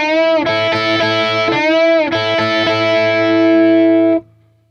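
Distorted electric guitar plays a rock lick: quick repeated double-stop notes, then a long sustained ringing note that cuts off sharply near the end, played loud and alone.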